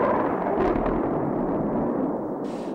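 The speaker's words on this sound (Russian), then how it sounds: "Ледовое покрытие взорвано на площади 11 тысяч квадратных метров." An explosive charge of over a tonne blasts the ice cover on a river at an ice-jam site, heard as a broad, dull rumbling roar that stays steady and fairly loud for several seconds.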